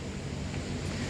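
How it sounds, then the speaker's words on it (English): Waterfall in a forest reserve pours as a steady, broad rushing roar of water, continuous and even, filling the whole moment with no other distinct sounds. "this waterfall is drowning out the"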